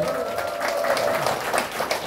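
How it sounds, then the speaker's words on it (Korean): Audience applause at a Gimpo disabled persons' association charity concert, a steady dense patter of many hands clapping for about two seconds, fairly close and without pause. "박수 한번 주십시오"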